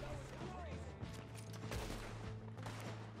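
Rifle fire while hunting in Red Dead Redemption 2, a few sharp cracking shots in quick succession over a low background rumble, fairly faint in the mix.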